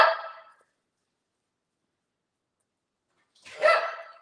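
A dog barks from downstairs in a house, two short bursts several seconds apart with near silence between, fairly distinct but not close.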